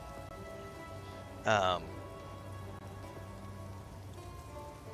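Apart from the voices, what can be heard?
rain falling outside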